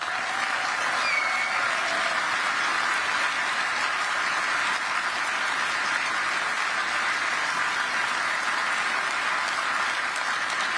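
A large crowd applauds a speech about Christianity and the West, a dense, steady roar of clapping that holds at even loudness throughout with no voice over it.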